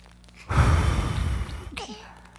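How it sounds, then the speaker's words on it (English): A baby gives a small yawn, a close, breathy rising and falling exhale of about a second that trails off into a soft voiced murmur. "I think that was a little yawn that she started there"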